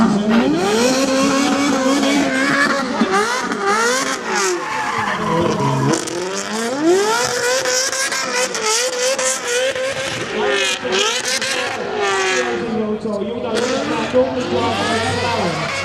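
An Ariel race car drives hard around Mondello Park circuit in Ireland, its engine revving up and down with squealing tyres as it corners, while people talk over the loud, shifting engine note.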